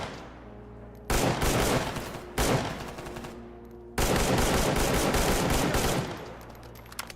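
Gunfire in the video game S.T.A.L.K.E.R. Gamma comes in three loud close bursts of rapid automatic shots, the last burst the longest, separated by quieter ambient pauses.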